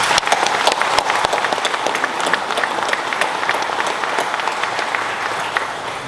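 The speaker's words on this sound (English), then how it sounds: "why don't you join me in giving a big round of applause to all in the mining sector in our country and the petroleum sector." An audience at a Papua New Guinea resources and energy conference applauds the mining and petroleum sectors, with steady, dense clapping that holds at an even level throughout.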